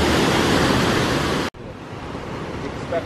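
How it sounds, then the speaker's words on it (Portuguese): Strong flow at the Cristal waterfall at Corê in Bonito gives a loud, steady broadband roar that cuts off abruptly halfway through, then returns as a quieter, continuous rush. "Essa é a Cachoeira Cristal da Corê."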